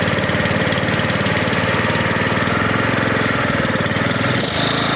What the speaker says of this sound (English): My clutch is slipping.